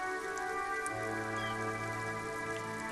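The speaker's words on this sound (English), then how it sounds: "Rain falls down on the world." Rain falls in the video game Disco Elysium, a soft continuous patter of drops with sustained tonal music droning underneath.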